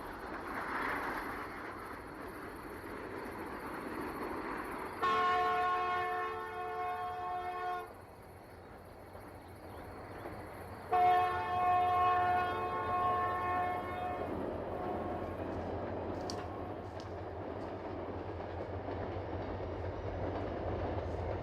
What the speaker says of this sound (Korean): 산골 마을을 지나 도시로 가는 열차는 경상남도 진주시에 이른다.